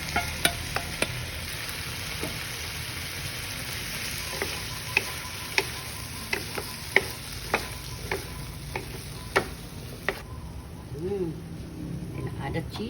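Corned beef stirred into cooked potatoes and carrots in a hot pan, steady frying sizzle broken by sharp, irregular scraping and tapping strokes of the utensil, close up, with a voice talking over it.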